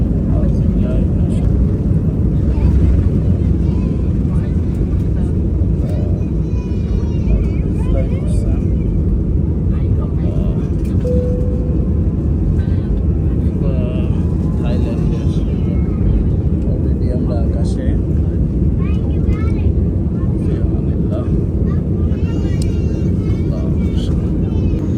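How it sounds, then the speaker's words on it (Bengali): An airliner's engines roar in a loud, steady rumble heard from inside the cabin as the plane takes off on the way to Phu Quoc, with people talking faintly underneath. "বিমানটা এখন ছাড়বে,"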